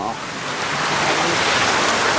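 A tall waterfall at Ban Sing Tham, Thung Pha Suk, Chiang Kham, roars as a loud, steady broadband rush that swells slightly and never lets up.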